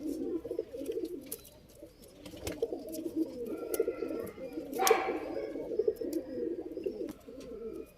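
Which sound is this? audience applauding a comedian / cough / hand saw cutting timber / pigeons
pigeons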